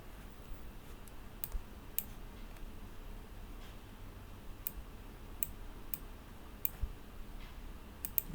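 Quiet computer mouse clicks in a 3D design session, arriving as sparse, sharp single and double ticks over a soft background hiss, with no talking.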